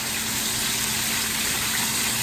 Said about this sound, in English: you want to add the water and the turmeric that I made, with turmeric water, the ginger and garlic paste